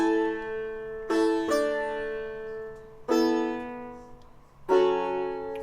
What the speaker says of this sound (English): So this is the sitar chords that I made.